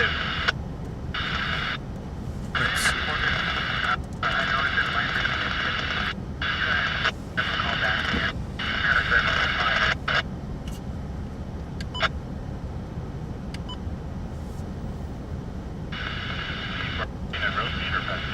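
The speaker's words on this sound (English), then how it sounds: "I think it's ham radios, maybe CB radios" Ham or CB radio static hisses steadily for the whole stretch, broken by bursts of garbled chatter that cut in and out, with a constant low rumble underneath.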